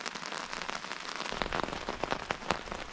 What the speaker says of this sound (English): we're sitting here in the rain under our tarp shelter